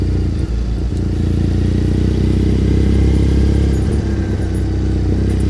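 A motorcycle engine on a ride through Tokyo, a steady low rumble with a constant hum and light mechanical clatter, close and continuous throughout.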